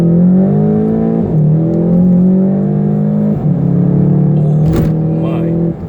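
Volkswagen Golf GTI 2.0 accelerating hard in sport mode, heard from inside the car: the engine note climbs steadily through the revs, dips briefly at each gear change, then rises again, loud and close.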